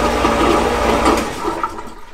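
Marine toilet on a Beneteau Oceanis 45 sailboat flushing, a loud continuous rushing of pumped water lasting about two seconds before tapering off, close by with no talk.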